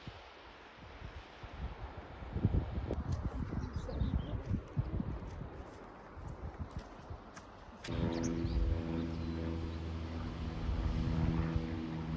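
A plane passing high overhead on the coast at Zennor Head in Cornwall, a broad steady roar that stays faint and distant and carries on under outdoor wind and footsteps.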